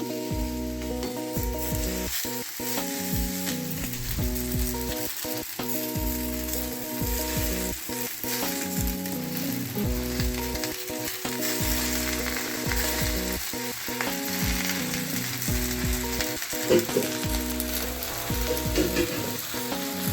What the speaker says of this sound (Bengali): ভালো করে ভেজে নিয়েছি এবার আমি শাকটা